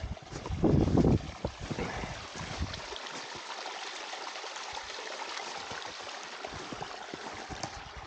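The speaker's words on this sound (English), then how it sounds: "Okay, you can hear the water." A wild stream in Martin Hill Wild Area at dusk gives a steady, even rush of flowing water heard from a short distance, preceded by a brief low rumble of handling or wind at the start.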